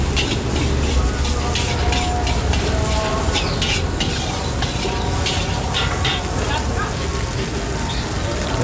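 Chicken fried rice stir-fried in a pan with vinegar, chili powder, salt and masala, a steady dense sizzle with scraping and stirring close up, continuous and loud throughout.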